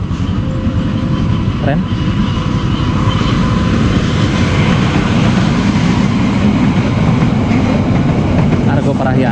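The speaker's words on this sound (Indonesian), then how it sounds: "Pas kereta melintas tuh." A train rumbles steadily across a bridge on the Cisomang line close by, a loud continuous roar with faint rhythmic clatter, while a voice speaks briefly over it.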